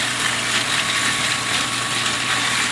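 A steady mechanical rumble and whir from a running Thumler's Tumbler rock tumbler cleaning .357 Magnum and .38 Special brass casings, with faint low clunks, continuous and even throughout, no voices.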